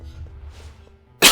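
One sharp, loud cough bursts out close to the microphone at the end of a near-silent stretch, abrupt and brief.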